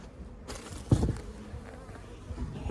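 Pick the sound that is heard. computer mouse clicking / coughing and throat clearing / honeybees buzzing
honeybees buzzing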